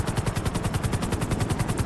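Rapid rotor chop from a helicopter in GTA V roleplay, a steady fast thumping pulse with broadband whine above, loud and close throughout with no talk.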